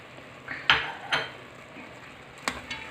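Masoor dal being mixed in a pot with dried fenugreek, garam masala, green chili and coriander, giving a few distinct spoon clinks and scrapes against the metal over a faint background hum.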